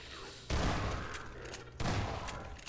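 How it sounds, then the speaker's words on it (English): Shotgun blasts in the first-person shooter Half-Life 2, with two loud, booming shots about a second apart, each trailing off into echoing rumble. "Shotgun to the face."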